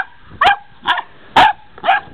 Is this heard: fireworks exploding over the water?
no